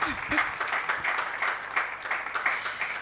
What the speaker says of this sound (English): Will you give her a round of applause?